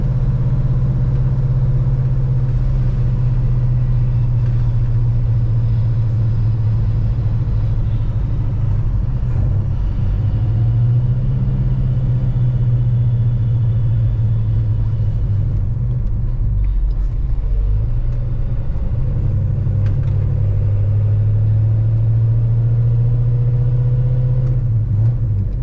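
A 1968 Pontiac GTO with manual steering, its engine droning steadily and loudly while driving, a continuous low rumble with slight rises and falls in pitch and no voices.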